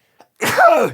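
A single loud sneeze bursts out close by after a faint intake of breath, broad and explosive with a falling tone tail, heard alone with no talk over it.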